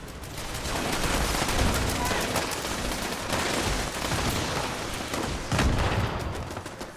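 Shotgun fire in Fallout 76: a long run of loud, rapid gunshots with dense blasts and bursts throughout, a heavier shot near the end, and no talk heard.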